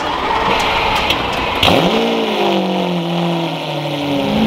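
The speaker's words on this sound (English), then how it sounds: "this is a cold startup on a Lamborghini Aventador Roadster" A Lamborghini Aventador Roadster fires up from cold with a sharp burst of revs that then settles into a loud, high idle, heard close up with no talk over it.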